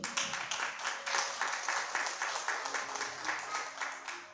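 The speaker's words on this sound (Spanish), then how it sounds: "Denle un aplauso a Dios." An audience claps steadily for several seconds, a dense wash of applause at moderate volume with a faint voice underneath.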